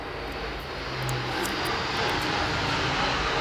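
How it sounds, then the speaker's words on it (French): A low-flying fighter jet passes overhead, a dense, loud roaring rush that swells steadily and stays sustained throughout, heard alone without talk. "Ça vole très bas. Beaucoup trop bas. Et c'est de l'avion de chasse."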